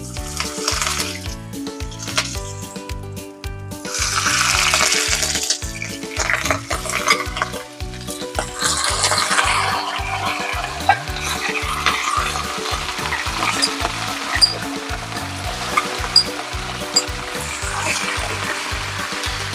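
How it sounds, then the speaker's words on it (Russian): Meat sizzles and crackles in hot oil, a constant frying hiss with small pops and scraping, close by. "мы будем жарить мясо до красивой коричневой корочки"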